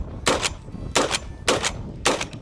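Four loud, evenly spaced USAS-12 shotgun blasts, each a sharp broadband crack with a brief double-peaked tail, about half a second apart, close and with no voices.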